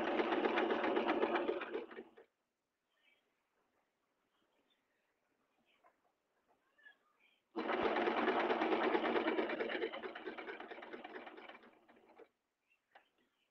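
A sewing machine stitches a seam on leggings in two sustained runs, each a couple of seconds or longer, with a quiet pause and faint handling noises between them. The machine is heard close and alone.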